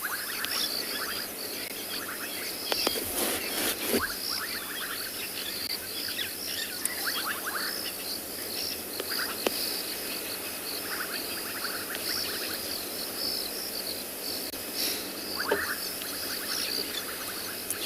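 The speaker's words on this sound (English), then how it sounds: "Mainly the bubbling casina that I can hear." Bubbling kassina frogs call at sunset on a still, windless safari evening, their short bubbling notes repeating steadily over a dense, constant chorus of insects and night sounds.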